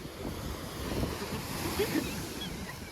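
Sea waves roll in at Porbandar Chowpatty beach as a steady, washing surf under strong wind buffeting the microphone, with the swell rising and falling gently.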